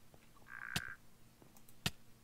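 A frog croaks in the modded Minecraft: Bewitched game: a short buzzy call with a few sharp clicks around it, then another crisp pop, heard alone and fairly close.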